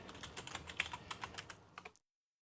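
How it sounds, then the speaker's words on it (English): Quick, light keystrokes patter across a computer keyboard for about two seconds as a password is typed, close and fairly quiet, then stop abruptly into silence. "we're going to type in our password"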